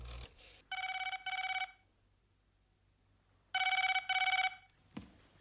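A telephone rings in two bursts of double trills separated by a few seconds of silence, then a short click as it is picked up.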